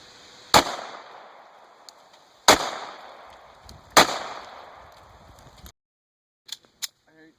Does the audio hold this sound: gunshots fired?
yes